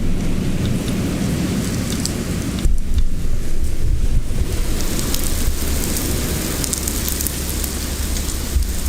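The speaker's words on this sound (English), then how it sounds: "Can you hear the rain?" Steady rain falls outdoors during a thunderstorm, with a dense hiss throughout and a deeper rumble of thunder swelling partway through. No talking.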